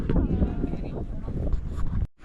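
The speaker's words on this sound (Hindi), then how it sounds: "बहुत हवा आ रही है" Strong wind buffets the microphone in rumbling, uneven gusts at a high mountain roadside spot on a Delhi–Spiti trip, loud and close, then drops out abruptly near the end.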